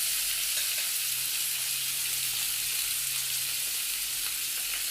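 Sliced green chillies hit hot oil for a Bengali mixed-vegetable curry, giving a loud, continuous crackling sizzle that holds steady close to the pan, with no one talking.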